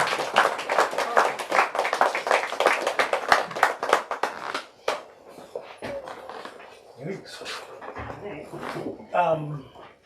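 A small audience at a book event applauds, a burst of close, crisp hand clapping that thins out and gives way to a speaker talking.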